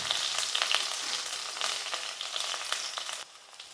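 Chopped onions and curry leaves sizzle steadily in hot oil, a close, dense crackling hiss that stays even before dropping slightly near the end.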